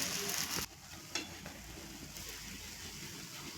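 A thin dhirde batter pancake frying in a pan with very little oil gives a steady, soft sizzle throughout, close and even, with a few brief scrapes or clinks near the start and no talk.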